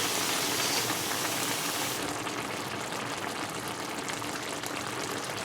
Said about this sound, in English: So we're gonna boil it for a bit more.